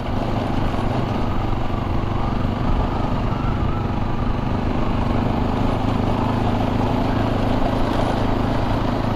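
A dual-sport motorcycle engine runs steadily throughout while riding, a continuous close rumble with a rough, buzzing tone and no pauses.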